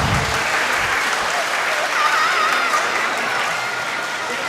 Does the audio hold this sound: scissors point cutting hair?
no